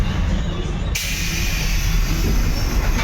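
A Bangalore metro train runs with a steady broadband rumble and hiss, its noise shifting abruptly about a second in and then holding evenly, close and fairly loud.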